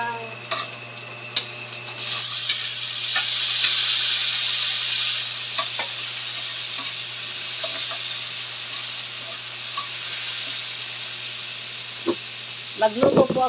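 Greens being sautéed in a pan with tomato, onion and garlic give a steady, close sizzle and hiss that swells loudly early on, then settles, with occasional small clinks and faint background noise.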